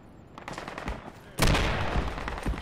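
Gunfire from a grenadier in the Project Reality military shooter, with scattered shots and then a loud, close blast followed by continued rattling fire and battlefield noise.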